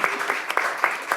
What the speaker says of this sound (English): Round of applause for Shannon, please.